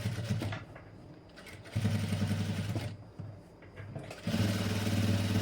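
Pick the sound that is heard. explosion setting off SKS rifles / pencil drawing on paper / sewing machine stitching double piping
sewing machine stitching double piping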